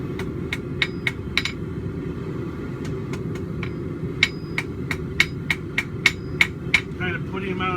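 Hammer blows ring out on an anvil while a forge-welded back scratcher is shaped, sharp metallic strikes in uneven bursts over a steady low roar of the forge, close and clear, no speech.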